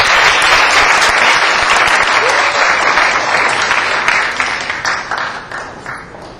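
A crowd applauds loudly and close by at the final round of a university debate contest, dense clapping that gradually thins and fades toward the end.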